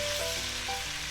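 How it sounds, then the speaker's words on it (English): Marinated pork steak frying in a pan, a loud, dense, continuous sizzle heard up close with no voices. "piniprito natin ang marinated pork natin"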